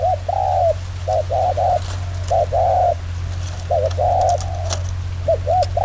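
Rhythmic dove cooing, groups of two or three rounded notes repeating close by with short pauses, over a constant low hum.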